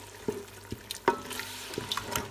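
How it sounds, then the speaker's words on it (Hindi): Dal being stirred into freshly fried masala in a pot for dhaba-style daal mash: a few scattered scraping knocks and clacks of the spoon over a soft, steady sizzle, fairly quiet, with no talking. "इसे मिक्स करते हैं"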